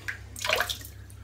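Water squeezed out of a wet wolf whiskers shaving brush, a short close splash and trickle that swells and fades over about a second.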